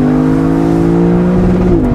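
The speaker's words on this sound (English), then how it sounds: "I'm going to downshift incredibly and listen to that again." Lexus LC500 convertible V8 revving loud and steady on a downshift, its harmonic drone holding pitch then dipping slightly near the end, with no talking over it.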